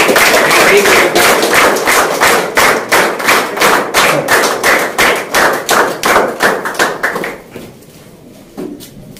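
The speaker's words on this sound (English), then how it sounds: "So big round of applause." Loud, steady audience applause at a National Mathematics Day quiz competition, rhythmic and close, filling the room for several seconds before thinning to a few scattered claps.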